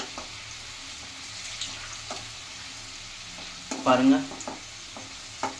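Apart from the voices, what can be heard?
garlic frying in a pan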